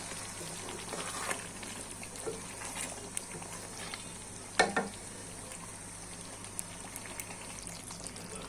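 Mango pickle with vinegar being stirred in a pot, soft wet bubbling and sloshing with occasional spoon clinks and one sharper knock near the middle.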